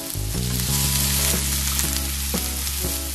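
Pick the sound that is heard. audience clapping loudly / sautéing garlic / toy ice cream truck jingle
sautéing garlic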